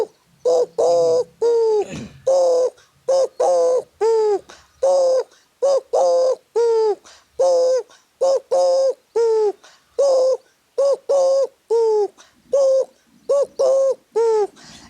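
A man imitates a dove call, repeating a clear, hollow cooing phrase about twenty times in a steady, loud rhythm close to the listener, with a short gap near the start.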